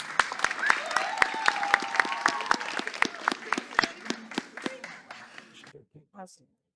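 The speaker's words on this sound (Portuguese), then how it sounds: "Palmas para Mariana, pessoal." Brisk applause rises for Mariana, a young student called up to ask a question, with many sharp claps and voices mixed in before it thins out and stops.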